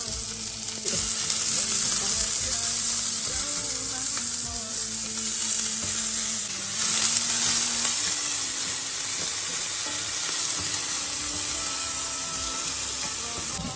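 Ginger, garlic and green chili sauté in hot oil with a steady, loud sizzle that holds for the whole stretch, with occasional stirring scrapes and no talking.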